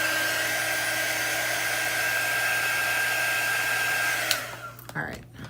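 A hair dryer blows steadily on an etched pumpkin, a loud constant whoosh and whine that cuts off abruptly near the end, leaving brief handling noises.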